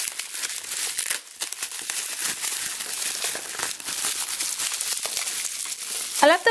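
A blind-box Vinylmation package being cut open, with close crinkling and rustling of cardboard and plastic wrap, continuous crackles and tears throughout at moderate loudness.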